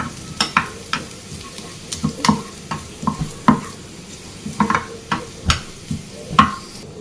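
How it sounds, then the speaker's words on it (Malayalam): Coconut pieces frying in a pan until light brown, a soft sizzle broken by regular sharp scrapes and clinks of a spoon stirring at close range, with no talking. "ഒരു ലൈറ്റ് ബ്രൗൺ കളർ ആകുന്ന വരെ നമുക്കിതൊന്ന് വറുത്തെടുക്കാം"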